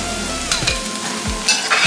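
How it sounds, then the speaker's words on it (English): Seasoned corned beef and cabbage are stirred in a pot, a short burst of spoon scrapes and knocks over a soft sizzle, close by, with a few louder clatters near the end and no talking. "Give this a stir."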